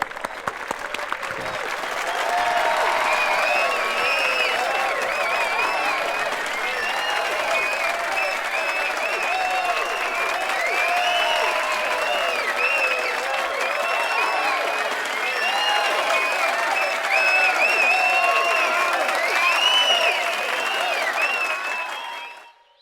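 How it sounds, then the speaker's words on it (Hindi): A large crowd claps steadily and loudly for about twenty-two seconds to welcome the chief guest, Munna Tripathi, at a pigeon-flying event, then the applause fades out at the end. "कृपया तालियों के साथ उनका स्वागत कीजिए"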